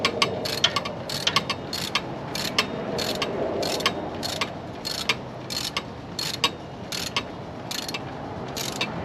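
Ratchet wrench tightening bolts during a shock swap on a 1992 Jeep XJ, sounding as steady bursts of crisp clicking strokes repeating back and forth, close and clear over a low background hum.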